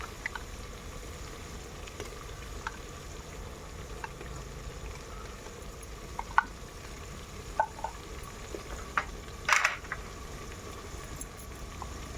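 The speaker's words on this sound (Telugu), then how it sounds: "అల్లం పేస్ట్ వేసుకుంటున్నాం రెండు స్పూన్లు అల్లం వేసుకుంటున్నాం" Ginger paste fries in oil for a biryani cooked over a wood fire, giving a low, steady sizzle and bubbling with a few faint clicks and one brief louder scrape near the end.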